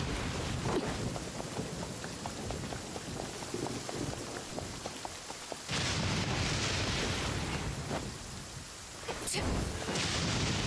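Thunderstorm in the video game Genshin Impact: continuous heavy rain hiss with rumbling thunder surging loudly midway and again at the end, lightning cracks, no talk.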